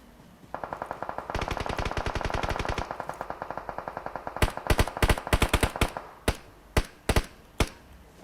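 Rapid bursts of gunfire in a team battle royale video game, first a sustained automatic stream, then scattered loud single shots and short volleys echoing.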